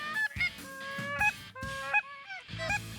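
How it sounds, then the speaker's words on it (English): Several wild geese honk loudly in repeated, overlapping bursts, close by, with brief pauses between calls, as they fly in toward decoys during an Ontario waterfowl hunt. "we finally started to hear the honks from the geese getting louder"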